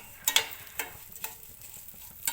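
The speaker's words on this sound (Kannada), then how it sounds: "ಈಗ ಅದೇ ಒಂದು ಇದಕ್ಕೆ ಶಾವಿಗೆ ಹಾಕ್ಕೊಂಡು ಹುರ್ಕೊಳ್ತಾ ಇದ್ದೀನಿ" Vermicelli roasting in a pan for payasam, a faint low crackle broken by a few brief sharp scrapes and ticks as it is stirred, close and quiet.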